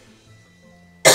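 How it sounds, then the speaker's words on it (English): A single loud, harsh cough bursts out at the very end after near silence, close to the mic. "God, I'm getting a full-on cough here."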